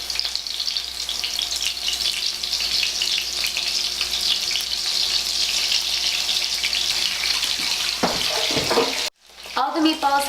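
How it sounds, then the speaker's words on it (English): Gluten-free lamb meatballs fry in a pan with a steady, loud, hissing sizzle that holds for about nine seconds before a short break, and then brief talk. "All the meatballs have been put into the pan. As you can see, it is sizzling"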